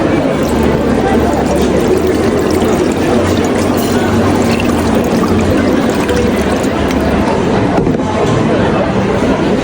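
Tap water running steadily while hands are washed at home, a constant close splashing flow throughout, with voices talking over it.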